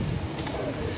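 Pigeons coo close by in a kept loft, giving a short, full-bodied warble that runs without a break through one brief moment, with no voices over it.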